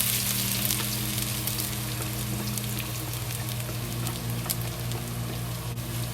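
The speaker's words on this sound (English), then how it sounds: "slowly fry until the ginger, scallion, and garlic release good smell" Ginger, garlic and scallion frying in oil with star anise, a dense, even hiss of sizzling that holds steady and close for several seconds, with faint crackles and no voices.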